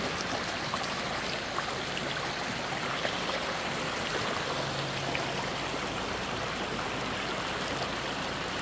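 A stream of clear river water flows in a continuous, even rushing hiss with a faint babble, steady and close throughout, with no voices.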